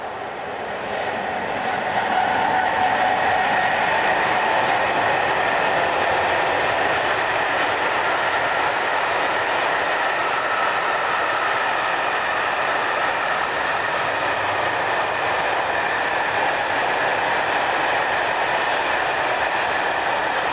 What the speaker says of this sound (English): Here 6560 heads empty oil tanks for Fos near Marseille